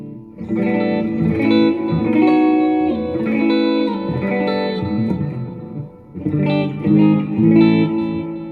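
Clean electric guitar played through a Positive Grid Spark 40 modelling amp set to a blackface-style amp, sustained chords ringing out with a little reverb shimmer, close and steady with a brief pause before the last phrases.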